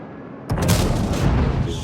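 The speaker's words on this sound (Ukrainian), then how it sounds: "Будемо стріляти, будемо стріляти, чому би ні." A tank cannon fires in a World of Tanks–style game, one sudden heavy boom followed by a long rumbling roar that stays loud to the end, with no voices.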